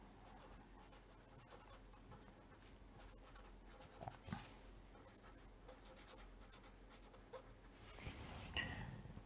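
Writing on a board during a German-language lecture on electrical protection: repeated short scratchy strokes in uneven bursts, fairly quiet, with a louder scrape near the end.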